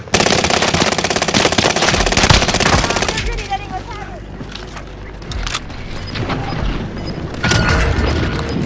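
Sustained automatic machine gun fire from the Call of Duty video game rattles loudly for a few seconds in a rapid, dense burst, then gives way to scattered shots and battle noise.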